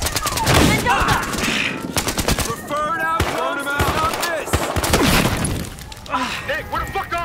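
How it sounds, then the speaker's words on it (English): Gunfire from the video game Battlefield Hardline, with rapid automatic bursts and sharp single shots cracking close and loud, mixed with shattering impacts while a voice talks over the action. "I'm shooting everyone!"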